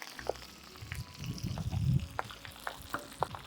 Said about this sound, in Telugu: పచ్చి ఆకు కదా, చిటిపట్లాడుతుంది